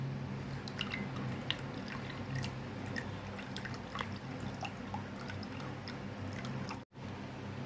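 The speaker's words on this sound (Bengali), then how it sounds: "ভালো করে পুরো রসটা নিংড়ে নিয়ে নিলাম" Ginger-garlic paste squeezed by hand to wring out its juice for Kolkata biryani, giving soft wet squishes and a scatter of small drips and trickles over a steady low kitchen hum.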